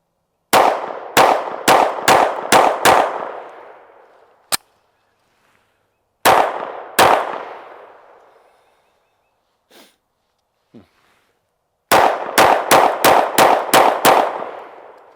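PSA Micro Dagger C-1 pistol firing three strings of sharp, loud, close shots, each string a quick rhythmic burst with ringing decay, separated by pauses and a few faint handling clicks.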